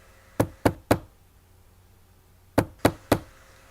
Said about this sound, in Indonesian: Mengetuk pintu dengan pelan